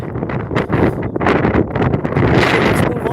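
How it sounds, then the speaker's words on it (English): Strong wind buffets a microphone on an outdoor walk around Sheepshead Bay, a loud continuous rumbling roar that surges and eases without a break. "It's getting windy."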